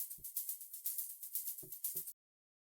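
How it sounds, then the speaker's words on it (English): A layered shaker for a soulful house track, blending a synth shaker with a real shaker loop. It gives a continuous bright rhythmic hiss with a faint steady tone underneath, joined by a few soft low thumps, then stops abruptly. "the next thing we have here is the shaker, which sounds like this"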